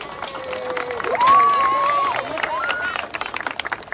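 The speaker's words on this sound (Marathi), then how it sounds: "त्यांनी आपल्या या व्हॉलंटियर्ससाठी जोरदार टाळ्या वाजवूया" A crowd at a civil-defence mock drill claps for the volunteers: scattered, fairly close applause that rises and thins out over a few seconds, with a voice speaking over part of it.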